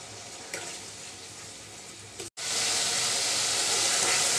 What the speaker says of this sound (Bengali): এই তো পেঁয়াজ রসুনের গন্ধটা যাওয়া পর্যন্ত আমি কষিয়ে নিলাম।